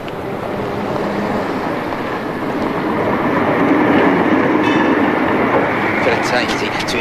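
Tram rolling through Hamburg, a steady loud rumble of wheels and motor with a rising roar and faint clicks and squeals near the end, heard from close by without pause.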